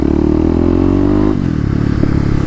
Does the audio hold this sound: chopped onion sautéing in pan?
no